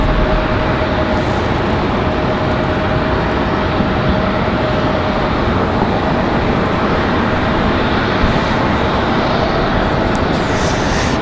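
A Southwest Airlines jet arriving from Nashville at Raleigh-Durham airport at night produces a loud, steady, broadband engine roar that stays constant throughout, with no talk.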